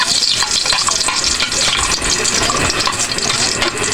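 Garlic frying in oil in a pan, a loud steady close-up sizzle with bright crackling spatter throughout and no speech.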